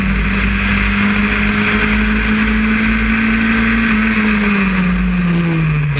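Historic Formula Ford race cars at Croft run closely together on track, a loud continuous engine drone whose pitch rises slightly then falls away as they pass.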